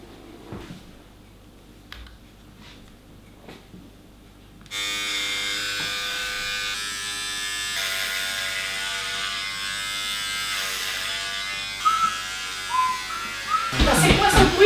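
Electric clippers buzzing while shaving a head, a loud steady close hum that starts abruptly after quieter handling noises and runs continuously, with a person briefly talking.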